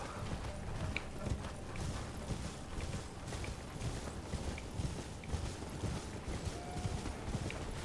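Horse hooves clip-clop steadily in Elden Ring, an even walking rhythm of soft thuds beneath faint ambient game sound, with no one speaking.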